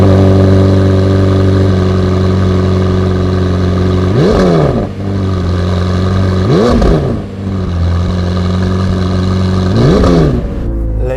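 A McLaren 765LT supercar on its standard exhaust drives through a tunnel, the engine droning loudly and steadily, broken by three sharp rising revs and gear-change dips that echo off the walls.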